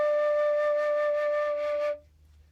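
A woodwind instrument sustains a single clean D for about two seconds, bright and close, with slight pulsing in the tone before it cuts off into quiet.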